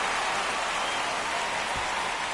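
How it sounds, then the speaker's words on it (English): Rain falls steadily during a baseball game in MLB 25, a soft, even hiss with no breaks throughout. "This rain is not letting up"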